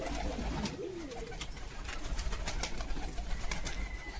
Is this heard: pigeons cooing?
yes